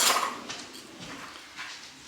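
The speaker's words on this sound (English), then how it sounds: "we're going to quickly give these dry ingredients a whisk" A whisk stirs dry pizza dough ingredients in a bowl, making faint, quick scraping and light clinking strokes in a quiet room.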